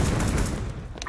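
Gunfire in the first-person shooter CS:GO on the Mirage map: a dense, loud spell of rapid shots and reports filling the first half, then fading, with a game commentator talking over it.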